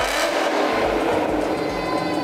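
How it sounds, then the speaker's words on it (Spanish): A detailed Ford Mustang revs hard while parked, its engine giving a loud, continuous aggressive roar that rises and falls slightly, close up and with no talking. "vamos a darle unos cuantos acelerones, algo nada más para que la gente pueda escucharlo ya más agresivo"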